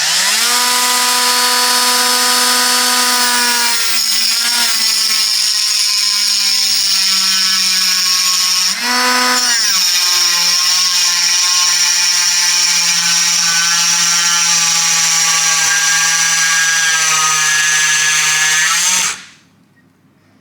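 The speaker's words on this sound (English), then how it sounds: "you want to see if this thing will cut wood." An angle grinder fitted with a 3D printed plastic disc whines loudly and continuously against wood, dipping briefly in pitch mid-run when loaded, then spinning down and cutting off near the end.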